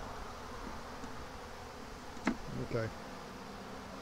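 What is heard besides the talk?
bees buzzing in a swarm trap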